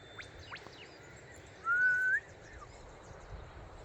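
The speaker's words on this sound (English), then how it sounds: "Quiet, birds." Birds call beside a quiet river on a canoe trail, with a clear rising whistle in the middle and a few faint chirps scattered around it over soft background noise.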